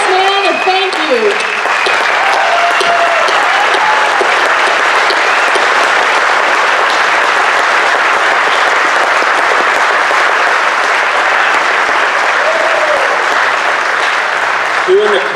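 Sustained applause from a standing crowd at a taxpayer revolt rally honoring a 94-year-old World War II veteran, loud and dense throughout, with brief voices at the start and end.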